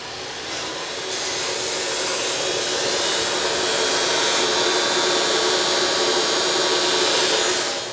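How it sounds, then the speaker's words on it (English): Belt sander smoothing the edges of a Local Motors Cruiser front brake part, a loud continuous abrasive whir and grinding hiss that holds steady close up for several seconds before winding down, no voices. "I'm going to cheat and use the belt sander."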